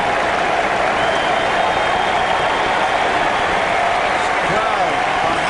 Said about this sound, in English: Crowd behind Randy Johnson as we look at Jimenez.